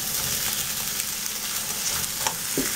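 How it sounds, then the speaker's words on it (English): Green papaya, cut, cleaned and boiled until soft, goes into a pan of curry, giving a steady close sizzle and frying hiss with light stirring and a few small clatters near the end, no talking. "So now I'm going to add the papaya to it."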